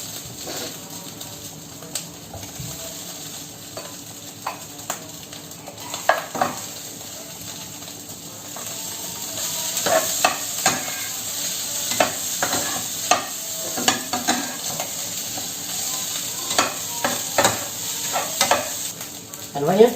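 Rice stir-fried in a pan at home, a steady soft sizzle under repeated scraping and clacking of a spatula against the pan, the stirring growing busier and louder in the second half.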